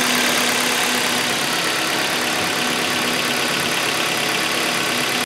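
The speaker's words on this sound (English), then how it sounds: "the engine is idling very, very smooth" A Hyundai i30 (FD) G4FA engine idling steadily up close, an even mechanical hum and rattle with no change in speed and no talking.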